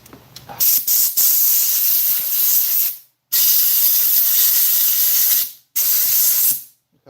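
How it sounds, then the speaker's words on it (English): Cleaner sprayed from an aerosol can onto a lawn mower carburetor, heard as three long, loud hissing bursts separated by brief silences. "I cleaned my carb, let's put it back on."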